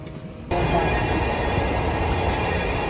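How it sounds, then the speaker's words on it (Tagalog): A Yamanote Line train in Tokyo roars past close by, its steady rumble and rail noise jumping louder after a half-second and holding as a dense, continuous wash. "VR train. Yamanote Line."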